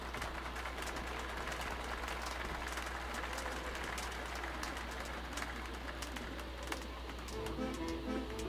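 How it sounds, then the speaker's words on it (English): Sustained applause from a crowd in the video game Metro: Last Light Redux, a dense patter of clapping that continues steadily, with a faint cooing bird in the background. "A round of applause, please."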